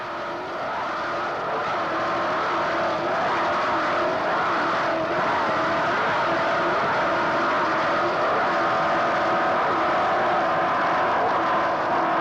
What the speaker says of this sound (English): Boat sounds very strong right now.